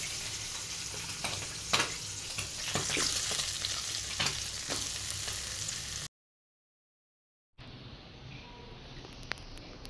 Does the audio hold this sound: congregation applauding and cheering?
no